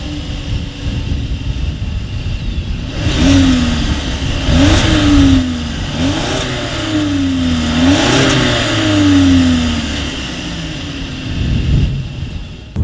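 A 2019 Volkswagen Passat with a single exhaust outlet revs from idle in several rising and falling pulls, the engine note climbing and dropping about four times, loud and close before settling back to a steady idle.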